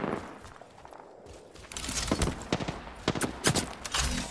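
Gunfire in the battle royale game Apex Legends: bursts of shots crack sharply and repeatedly in the second half, building from a quieter start into loud, close, uneven volleys.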